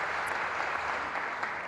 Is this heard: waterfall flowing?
no